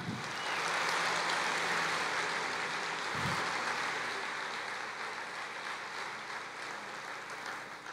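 A church congregation claps together in steady, continuous applause that fills a large room and gradually softens, with no talk over it.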